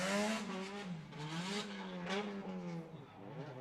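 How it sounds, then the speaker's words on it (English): An SR20-engined, 450-horsepower drift car runs a qualifying lap at the British Drift Championships at Teesside. The engine note rises and falls in long sweeps as it slides through the course, heard at a moderate distance. "SR20 under the bonnet, 450 horsepower."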